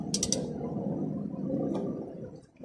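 Ratchet wrench loosening a bolt on a VW 2.0 FSI engine in a Golf/Jetta Mk5, a quick burst of close metallic clicks at the start, then grinding mechanical creaks and a low rumble.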